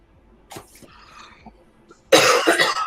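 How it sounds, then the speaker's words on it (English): A person coughing, a few small throaty coughs and throat noises followed by a loud harsh burst of coughing at the end. "oh, this cough is just will not go away"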